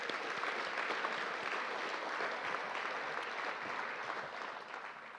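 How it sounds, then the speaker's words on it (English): Audience applause fills a scholarship awards night for the Class of 2023, a steady, dense wash of clapping that carries on throughout and tapers slightly near the end. "Big round of applause for her"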